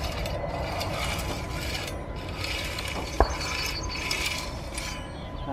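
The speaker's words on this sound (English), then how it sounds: "we get the rake, and just with hardly the weight of the rake on this, just to smooth it and flatten it" A garden rake drawn lightly across soil to smooth and flatten it makes a steady, close scraping and rasping texture with faint ticks and one sharp click near the middle, with no talk.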